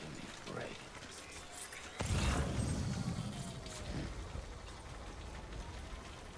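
Timefall rain falling in the video game Death Stranding, a steady hiss of rain on surfaces throughout, swelling louder from the second mark, with talk heard over it.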